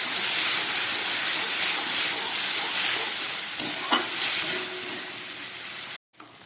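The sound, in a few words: spice paste being sautéed and stirred in a pan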